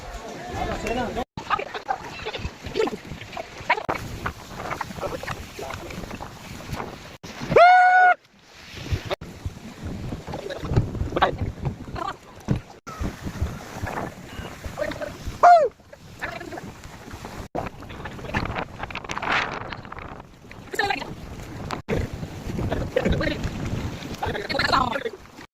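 A boat ride on open water near the Ambaji temple, with engine and water noise under wind buffeting, joined by goose-like honks and people talking throughout.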